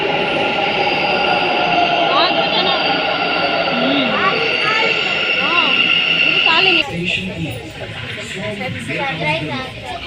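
A train rumbles loudly along the rails with squealing wheels, as people talk over the steady noise.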